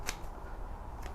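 Sharp scissor snip cutting through a tuberous begonia leaf cutting, a single crisp close snip followed by a second fainter one about a second later, in a quiet room.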